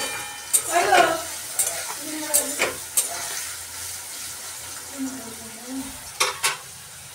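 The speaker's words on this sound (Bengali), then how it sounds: "তো চলো গাইস আগে এগুলো ভেজে নিই," Vegetables such as carrot fry in a pan with a soft sizzle, while a spatula scrapes and taps against the pan at irregular intervals, close and moderately loud.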